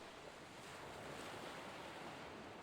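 Ocean waves washing steadily onto the shore, a continuous soft rushing surf with some wind noise, fairly faint and with no voices.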